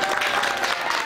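Crowd applause at an MMA event as fighter Musa Musalaev is introduced for the main bout, a brief steady wash of clapping from a large audience.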